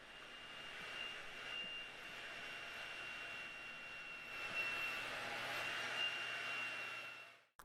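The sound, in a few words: hair dryer blow drying hair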